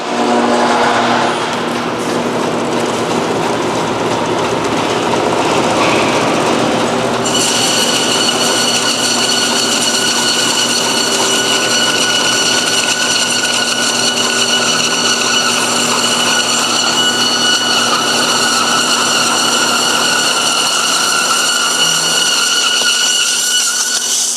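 A bandsaw cutting through a HEPA filter, a loud continuous whining and grinding drone with a steady high tone that rises and holds after several seconds, no speech.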